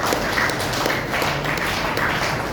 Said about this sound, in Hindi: तो एक बार जबरदस्त तालियां मिलनी चाहिए।